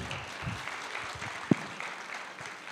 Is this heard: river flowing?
no